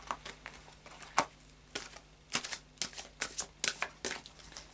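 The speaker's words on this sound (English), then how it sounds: "I'm going to carry on, do some more shuffling, and then I'll cut the cards again." Energy oracle cards being shuffled by hand, a series of quick papery riffles and flicks in an irregular rhythm, close and fairly quiet with no talking.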